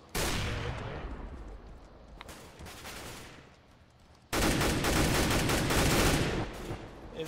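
Gunfire in a CS:GO deathmatch round, with dense bursts of shots that rattle on, dip briefly, then return louder and heavier, close and continuous with no talking.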